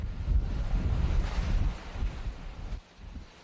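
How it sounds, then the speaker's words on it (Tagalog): Strong typhoon winds from Milenyo lash the coast at Batangas, a loud continuous roar of buffeting wind and surf with heavy low rumble, easing briefly near the end. "Bumuhos ng matinding ulan, pero mas malakas ang hambalos ng hangin."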